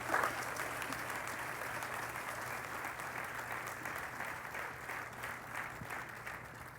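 A crowd applauds steadily at an outdoor groundbreaking ceremony for the VinFast factory in Chatham County, a dense, even patter of many hands clapping heard from within the audience.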